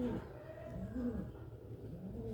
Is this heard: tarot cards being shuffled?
no